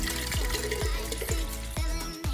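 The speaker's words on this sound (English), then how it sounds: "You're going to need to fill that with water." Water pours into a large glass jar or vase, a close, steady gurgling stream with repeated bubbling glugs and splashes rising as it fills.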